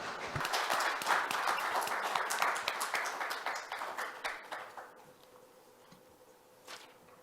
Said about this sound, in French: Veuillez l'accueillir chaleureusement avec un fort applaudissement